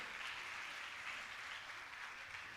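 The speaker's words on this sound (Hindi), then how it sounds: "एक बार तालियां तो बजाइए" Audience at a religious discourse gathering applauding, a steady wash of dense clapping heard from a moderate distance and fairly faint, sustained without pause and with no voices over it.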